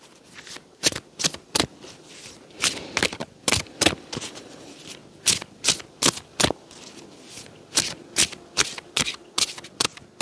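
A deck of tarot-style cards being shuffled in a series of crisp riffling bursts, about twenty quick rustling snaps spaced fairly evenly, close and clear with no talking.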